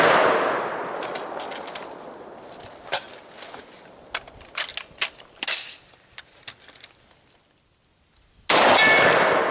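Gunshots ring on a steel target outdoors in the woods, a sharp burst at the start and then a series of separate distant cracks and clangs spread irregularly, with a loud rushing noise at the end.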